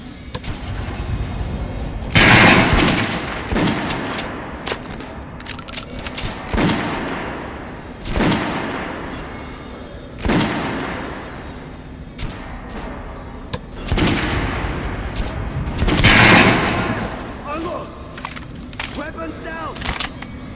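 Gunfire on a shooting range in Metro Last Light Redux, with several sharp bursts and single shots spread across the scene, close and loud, and game voices talking between and over the shots.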